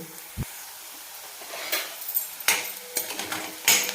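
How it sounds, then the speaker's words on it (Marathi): Masala for a white pea and potato curry sautés in a pan until reddish brown, with a spoon scraping and clinking against the metal in several close strokes over a quiet sizzle and one low knock near the start. "तर आपण आता हे छान असं तांबूस कलरवर परतून घेऊ."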